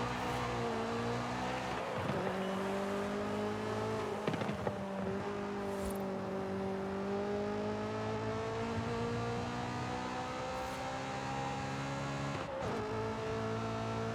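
A high-revving Honda S2000 engine holds a steady, loud drone that climbs slowly in pitch, dipping briefly a few times with short gear-change-like breaks, with no talking over it.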